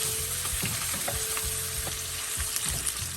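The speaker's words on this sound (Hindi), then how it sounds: "एक एक साइड हमें एक एक मिनट फ्राई करना है, क्योंकि प्रॉन्स ज़्यादा फ्राई करने से हार्ड हो जाता है" Prawns frying in a pan for a Bengali malai curry, a dense close sizzle throughout with scattered small pops and light clinks of a utensil.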